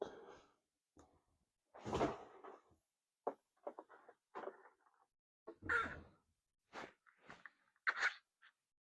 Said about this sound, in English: I just knocked over